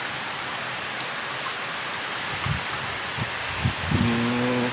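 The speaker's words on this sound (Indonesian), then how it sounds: "Ini sambil hujan disertai dengan angin yang sangat kencang." Heavy rain in Gowa Regency, South Sulawesi, whipped by very strong wind, roars as a steady broadband wash with gusty swells and a few low thuds, growing louder toward the end.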